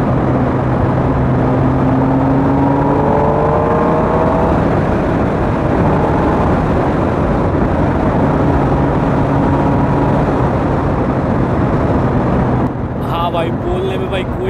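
A Kawasaki Ninja ZX-10R sport motorcycle drones loudly and continuously, its pitch climbing in rising sweeps as it accelerates, with heavy wind rush throughout.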